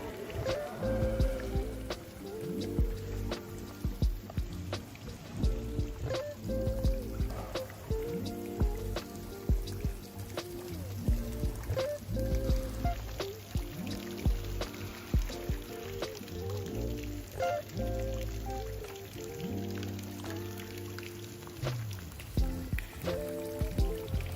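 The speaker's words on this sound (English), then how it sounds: "there's a lot of ambient sounds of the water splashing around" Steady splashing and trickling water from an indoor water feature in a hotel fills the space, a continuous indoor wash of droplets with no talking.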